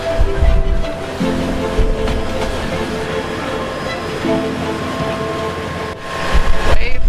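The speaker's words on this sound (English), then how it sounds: "Waves all crashing." Ocean waves crash and wash steadily near a cruising sailboat, a loud continuous surf roar with heavier surges at the start and end, and low engine or hull rumble underneath.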